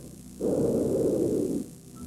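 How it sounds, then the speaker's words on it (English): A single soft, breathy whoosh of air lasting about a second, like a calm inhalation of healthy human lungs heard up close. "This is the sound of healthy lungs."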